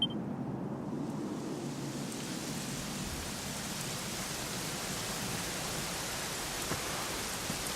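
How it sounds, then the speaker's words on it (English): A rainy scene in the game Dragon Quest XI, with a constant broad hiss of heavy rain and a low rumbling undertone at the start, steady and unbroken throughout. "it was raining like this the last time I ever saw her"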